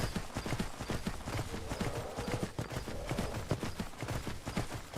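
Rapid, steady clip-clop of horse hooves while riding in a fantasy video game, a continuous galloping rhythm at moderate loudness with no talk over it.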